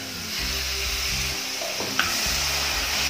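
Drumsticks fry in a pan for a Telugu drumstick curry, a loud continuous sizzle with a low steady hum beneath and one sharp clink of a utensil partway through.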